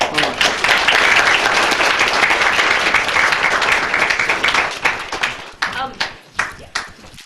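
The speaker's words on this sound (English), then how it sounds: "Let's give them a round of applause." Loud round of applause from the audience at a public meeting right after a unanimous vote, dense clapping for several seconds that thins into a few scattered claps at the end.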